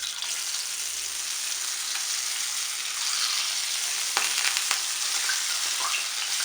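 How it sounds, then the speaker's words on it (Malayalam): Oil heats in a hot unniyappam pan over the stove, producing a steady close sizzle with two sharp clicks partway through. "നമ്മുടെ ഉണ്ണിയപ്പച്ചട്ടി നല്ലതുപോലെ ചൂടായിട്ടുണ്ട്. ഞാനിപ്പോൾ ഇതിൽ ഓയിൽ ഒഴിച്ച് കൊടുത്തിട്ടുണ്ട്."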